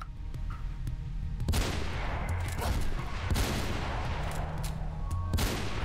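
Sniper rifle fire in Mirror's Edge, with heavy booming shots that land among dense, continuous rumbling gunfire and explosive noise, loud and close throughout.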